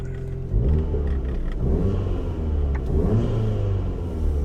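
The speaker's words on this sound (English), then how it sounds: "So that's what the sound is with the valves closed." A Mk7 Volkswagen Golf R fitted with a Remus exhaust, valves closed, revved repeatedly from a warm idle: loud, close, deep rumbling blips that rise and fall in quick succession.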